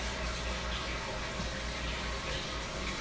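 Water pours steadily into a tank in a pumped growing system for cauliflower and broccoli, a constant rushing and gurgling flow close by without pauses.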